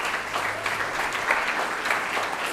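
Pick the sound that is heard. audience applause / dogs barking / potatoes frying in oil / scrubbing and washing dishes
audience applause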